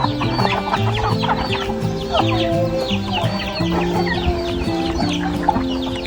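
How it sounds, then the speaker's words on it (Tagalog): A large flock of farm chickens clucks and squawks all at once in a dense, overlapping chorus, close and loud, steady throughout with no talking. "Grabe ang manok ni Architect. Sobrang dami."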